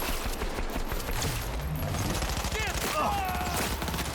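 Smart gun in the video game Cyberpunk 2077 firing rapid bursts of shots, with dense rattling gunfire running throughout and sharp whooshing projectile sounds near the end, mixed with voices.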